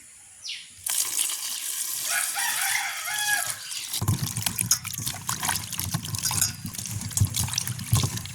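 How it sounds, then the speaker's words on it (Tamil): Water splashes and trickles as chilies are swished and rinsed by hand, a steady, close sloshing that turns heavier and busier partway through. "நாங்கள் இப்போ துப்புராக்கி எடுத்த மிளகரையை கழுவி எடுப்போம்."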